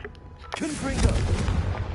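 Confringo fire-blast spell cast in Hogwarts Legacy, a fiery burst that swells from about half a second in and peaks near one second, booming with low rumble and staying loud and close to the end.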